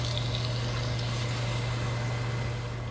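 Water pouring steadily into a pan of chicken hundi curry in an Indian restaurant kitchen, a continuous close rushing and gurgling without pause.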